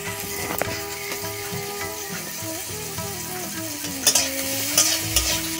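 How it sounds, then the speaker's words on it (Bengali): Garlic paste and onion frying in oil in a pan, a steady close sizzle with stirring and scraping throughout, a few louder clanks near the end. "এরপরে আমরা দিয়ে দেব পেঁয়াজ, এখন দিয়ে দেব রসুন। সেই রসুন বাটা এখন দিয়ে দিলাম।"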